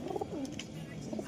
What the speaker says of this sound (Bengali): খুব সুন্দর সুন্দর ম্যাটাচ কালাঙ্কা কবুতর আছে এখানে।